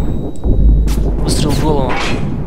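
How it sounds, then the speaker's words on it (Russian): A loud gunshot headshot in the video game Watch Dogs booms over dense, rumbling combat noise, with game effects and brief voice-like sounds layered on top. "Выстрел в голову."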